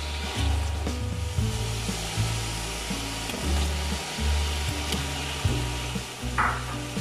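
Chicken frying with red chili powder for pulao, a steady loud sizzle with irregular scraping stirs and clatter against the pot throughout.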